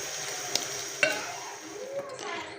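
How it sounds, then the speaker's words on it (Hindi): Potato and egg curry being stirred in a pan, with a soft ongoing sizzle, a few sharp spoon scrapes and clicks, and a brief swishing sweep near the end, with no voices. "ये देखें, अब अच्छी तरह से मिक्स करूँगी।"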